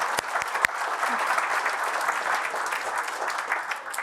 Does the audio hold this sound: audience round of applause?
yes